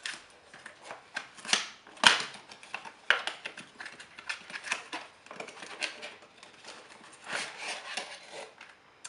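Cardboard packaging of a Fujifilm Instax Mini 8 instant camera being opened by hand, with close, crisp rustling, scraping and tearing sounds in quick irregular bursts and one sharp snap, no talking.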